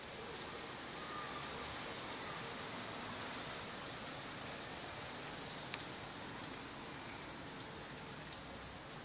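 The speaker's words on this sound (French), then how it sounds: "tu vois bien, il pleut là, on attend" Steady rain falls in a short teaser clip, a continuous even hiss of drops with an occasional sharper drip, with no talking.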